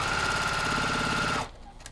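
A sewing machine stitches quilt fabric for a charity quilt-along row, running in one steady, close, even buzz that cuts off abruptly just before the end and leaves quiet room tone.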